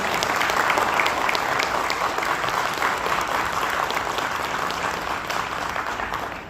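Audience applause at a Luminous product launch for batteries, inverters and solar gear, a steady wash of many hands clapping at moderate volume, continuous for several seconds and easing slightly toward the end.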